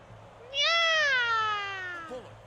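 A person imitates a cat, giving one drawn-out, clear meow that rises then slowly falls, fairly close over a quiet room background.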